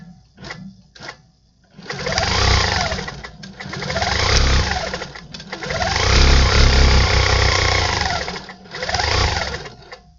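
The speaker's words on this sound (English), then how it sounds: "I'm going to hit resume, and it's going to automatically move right where it needs to be, draw up my bobbin thread, and we're back off quilting." A Handi Quilter longarm quilting machine with a Pro-Stitcher resumes stitching: a couple of brief mechanical taps, then loud, close, steady bursts of fast needle stitching with a motor whir that pause and restart several times, with no talking.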